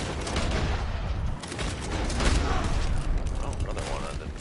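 Rifle gunshots from a bolt-action rifle in the Red Dead Online video game, dense loud game audio with overlapping shots and mechanical clatter.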